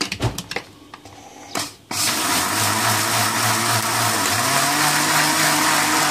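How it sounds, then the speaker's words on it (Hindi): Electric blender jar whirring up to speed as it mixes sugar and water, a few clicks and handling knocks first, then a loud, steady motor roar with a slight pitch rise, close up and without speech. "थोड़ा सा पानी डाल के इसको हम अच्छी तरीके से शेक कर लेंगे अपनी चीनी को।"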